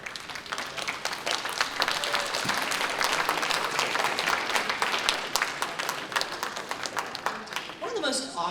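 Steady audience applause at a self-advocacy conference fills the whole stretch, dense and continuous clapping from a large room, close and even in loudness, fading slightly only at the very end.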